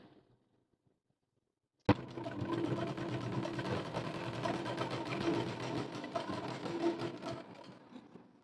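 A sewing machine stitching folded cloth for tassels starts abruptly after a near-silent pause, then runs in a continuous close whirring drone of rapid stitching that lasts to the end with no speech.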